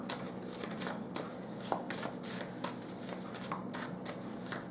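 Tarot cards are shuffled by hand in a quiet room, a soft continuous riffling and rustling with small slaps, fairly faint and steady throughout.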